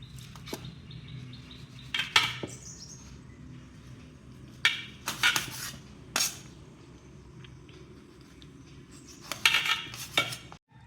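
Knife chopping jackfruit into small pieces: sporadic sharp clicks and taps in short clusters with quiet gaps between, close by, with faint bird chirps in the background.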